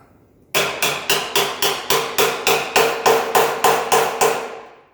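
A rapid, even series of about fourteen loud metallic hammer blows on a chisel breaking spot welds between two pieces of metal, close and ringing, ending in a fading resonance.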